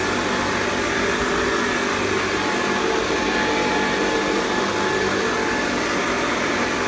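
A Hoover Convertible Model 1070 upright vacuum cleaner runs with its agitator spinning, a loud, steady motor roar and broad airy hiss with a faint whine, unbroken and close.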